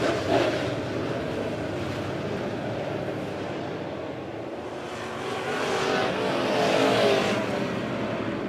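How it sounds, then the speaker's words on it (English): Race cars roar around Monett Motor Speedway at green flag racing, a sustained engine wash that swells as the pack passes near, then eases and builds again. "Back to green flag racing here."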